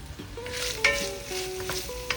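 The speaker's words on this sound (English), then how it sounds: "Dutch oven, we have 2 onions and 1 bell pepper. And this is gonna saute for about 8 minutes." Two onions and a bell pepper sauteing in a Dutch oven, giving a soft, steady sizzle with occasional stirring scrapes and light clinks close by.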